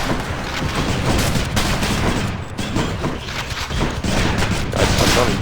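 The Adamant Rail gun in Hades fires a dense, continuous barrage of rapid shots, loud and close, with booming impacts layered throughout.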